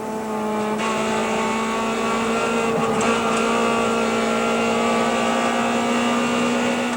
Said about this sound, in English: 36 cars on the grid, and Wilhelm Bart in the Class B Motorpix Nissan Sentra fluffed his start as the field got underway for the final race